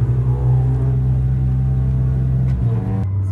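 A warmed-up Mini tuned to over 300 horsepower gives a loud, close, deep engine rumble with rising revs, then drops off sharply near the end.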